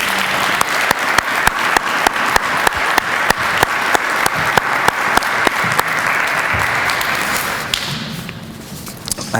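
An audience gives the mayor a round of applause at the Mount Clemens State of the City address. Steady, dense crowd clapping with a few loud close claps in a regular beat gradually thins and dies away near the end.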